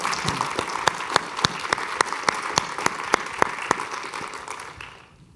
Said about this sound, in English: let's please give these fine ladies a round of applause